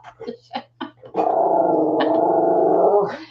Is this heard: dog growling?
yes